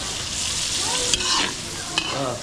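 Garlic and onion frying toward golden brown in a pan, a loud, close, continuous sizzle with a couple of sharp stirring clicks and faint muffled voices underneath.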